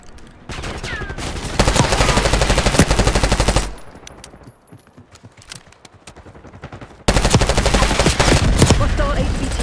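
Gunfire in Call of Duty Black Ops 6 on the Scud map during a Kill Order match: two long, loud automatic bursts of rapid shots separated by a quieter lull, with voices briefly in the mix.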